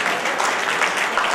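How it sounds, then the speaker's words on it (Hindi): An audience at an Arya youth council foundation day event claps together to welcome a guest, a dense, steady applause close and loud for a moment. "एक बार ताली बजा के स्वागत करते होगा"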